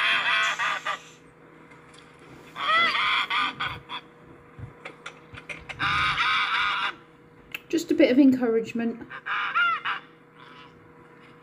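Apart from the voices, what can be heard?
geese honking near hatching goslings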